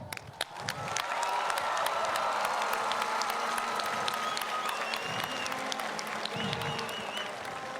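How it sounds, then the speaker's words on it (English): Large stadium crowd at the World Scout Jamboree opening ceremony in AT&T Summit Stadium, West Virginia, breaking into a broad roar of applause with some cheering, rising quickly and holding steady for several seconds. "Please join me in offering these 3 a round of applause."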